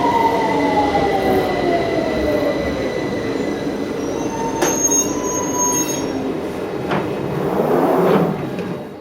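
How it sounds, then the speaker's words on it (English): A London Underground 2009 stock train rolls into the platform with loud squealing wheels and a rising rumble, brakes hissing as it slows. "Please stand behind the yellow line as the train approaches."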